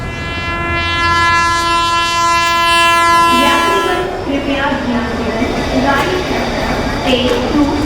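A train horn sounds a long sustained blast, then gives way to the rumble of a moving train with people talking over it, in a dramatized crime scene at a railway.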